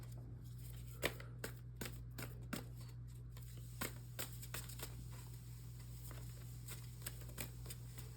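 Tarot cards are handled and drawn in a quiet room, with a series of crisp, close card snaps and flicks at irregular intervals over a faint steady hum.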